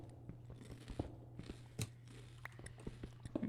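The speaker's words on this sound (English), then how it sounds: "I'm eating goldfish crackers" Goldfish crackers being chewed close to the mic: a steady run of short, crisp crunches and bites over a faint steady hum, with no talking.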